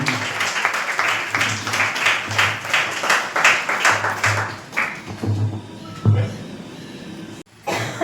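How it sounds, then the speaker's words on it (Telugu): A church congregation claps to welcome the pastor, rhythmic applause swelling and pulsing in a hall for several seconds before thinning out, with a thud near the end and some voices mixed in. "చప్పట్లు కొడుతూ దేవుని మహిమపరుస్తూ ఆహ్వానించుదాం."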